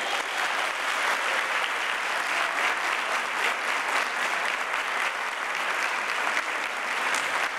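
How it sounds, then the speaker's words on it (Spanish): Steady applause from a room of people at a Christmas lunch for memory workshops, a dense, even clapping that holds at a constant level for several seconds. "con vuestro profe preferido que es Jorge, que seguro que recibe un fuerte aplauso, ¿verdad?"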